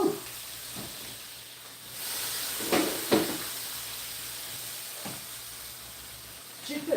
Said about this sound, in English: saute some onions